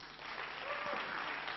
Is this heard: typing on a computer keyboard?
no